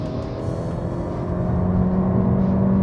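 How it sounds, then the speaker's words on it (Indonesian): Honda Civic Hatchback Type-E with a CVT, its engine revving steadily from inside the cabin, the drone rising slightly in pitch as a simulated gear shift comes in, a continuous hum with no talking. "Tuh, soalnya ada perpindahan gigi."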